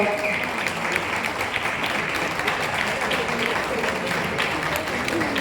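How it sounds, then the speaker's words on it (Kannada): An audience at a Kundapura Kannada festival in Bengaluru applauds to honour three guests, with dense, sustained clapping that stays even and loud throughout. "ಪ್ರೀತಿಯ ಚಪ್ಪಾಳೆಯ ಜೊತೆಗೆ ಅವರ 3 ಜನರನ್ನ ಗೌರವಿಸುವ"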